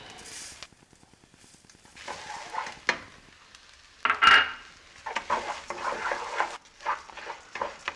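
Risotto rice goes into a pan of golden-browned onion for toasting, bringing scraping stirs, clinks of a utensil against the pot and a soft sizzle that swells after the rice drops in, close up with no talking.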